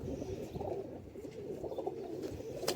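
A pigeon coos softly and continuously in low, murmuring pulses against faint background noise, with no voices.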